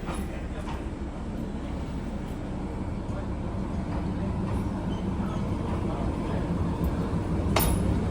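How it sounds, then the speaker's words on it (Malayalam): A Darjeeling Himalayan Railway train reverses into the platform with a steady low rumble and occasional metallic clinks, growing slightly louder as it approaches amid faint station background noise. "ഇപ്പോഴാണ് പ്ലാറ്റ്ഫോമിലേക്ക് ഇതാ ട്രെയിൻ റിവേഴ്സ് ചെയ്ത് വരുന്നത്."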